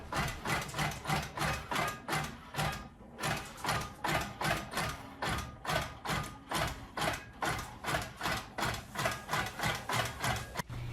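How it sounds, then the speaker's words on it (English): Sewing machine running a long basting seam across a quilt: fast, regular mechanical thumping and whirring pulses, close and continuous, with one brief pause. "Pull your machine as close to you as you can and make a 1 inch basting seam horizontally across the entire quilt."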